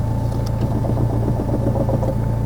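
A McLaren 570GT sports car engine runs at a steady, close, low rumbling hum with no change in pitch through the short stretch, and no one speaks.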